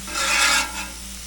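Vegetables for a cheesesteak being mixed on a hot griddle, a short rough scraping stir lasting about half a second over a low sizzle, then a fainter second stroke.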